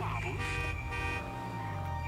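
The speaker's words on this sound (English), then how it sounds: "I'm honking the horn." Car horn honking in GTA 5 Online during a limo-driving job, sustained and loud over game engine noise and music-like tones, with someone talking over it.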